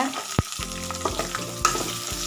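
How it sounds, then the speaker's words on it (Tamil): Onions sizzle with green chilli and curry leaves in hot oil, a steady frying hiss broken by a few sharp spatula clacks against the pan, close and moderately loud with no talking. "இப்போ அதை நல்லா வதக்கி விட்டுக்கோங்க"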